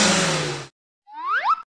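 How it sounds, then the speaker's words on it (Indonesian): A brief burst of motorcycle engine noise cuts off abruptly, followed by a short rising, twinkling chime. "Sepeda motor."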